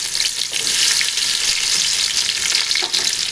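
Chopped onions and garlic frying in hot oil with tempering spices for a fish curry, a steady loud sizzle with occasional stirring scrapes and no voices.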